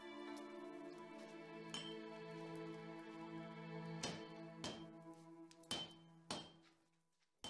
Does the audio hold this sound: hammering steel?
yes